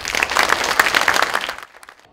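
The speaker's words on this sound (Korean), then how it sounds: "이분들 일 열심히 잘해주시라 박수 한번 주십시오." Crowd applause at a district-office event as candidates are introduced, dense clapping for about a second and a half before cutting off abruptly.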